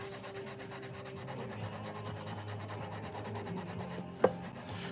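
Guitar frets being polished with 1,200 grit abrasive, a soft continuous rubbing close by and fairly quiet, with one small sharp tap near the end.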